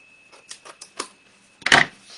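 Vellum paper being trimmed at a corner for a craft project, with a few light crisp snips in a row followed by one louder, longer crinkly cut, close and quiet.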